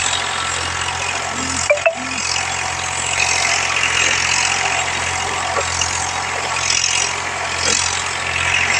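A tractor engine idles throughout with a low, constant rumble, giving off heavy smoke, joined by a couple of brief knocks and clunks along the way.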